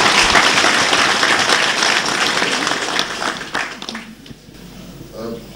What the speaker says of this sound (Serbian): jedan veliki aplauz za sebe